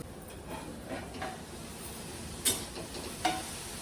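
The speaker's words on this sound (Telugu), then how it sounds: "ఇలా అన్నీ వేసేసుకుని కొంచెంసేపు మెత్తగా ఉడకనివ్వాలి" Omelette ingredients sizzle softly in a pan, a steady frying hiss with a couple of sharper scrapes as they are stirred, close and moderately quiet, with no talk.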